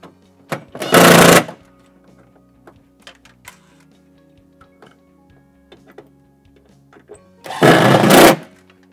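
A power drill whirs in two short bursts several seconds apart, driving screws while installing a twin under-sink water filter, with light clicks and handling noises in between.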